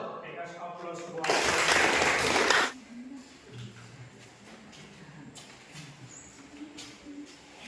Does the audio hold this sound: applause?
yes